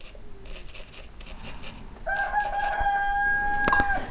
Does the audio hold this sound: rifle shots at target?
no